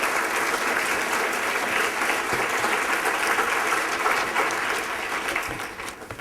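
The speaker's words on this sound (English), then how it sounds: "please give them a round of applause because they're doing amazing work." Audience at a conference kick-off event giving a sustained round of applause, a loud, dense, steady clapping from a full room that tapers off at the end.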